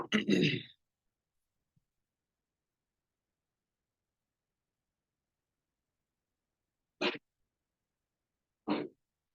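A single sharp sneeze bursts out at the start, close and loud, followed by long silence and two brief faint vocal sounds later.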